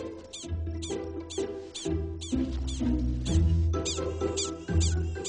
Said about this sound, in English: The prairie dogs are certainly being vocal.